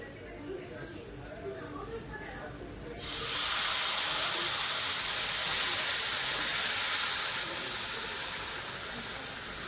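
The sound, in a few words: boiled milk poured into the pan for sevai kheer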